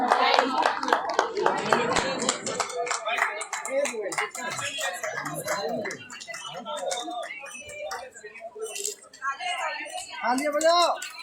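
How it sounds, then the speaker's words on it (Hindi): An audience at a Women's Day speech event breaks into scattered clapping, mixed with talking voices and some background clatter, the claps fading in and out rather than building into full applause. "तालियां बजाओ।"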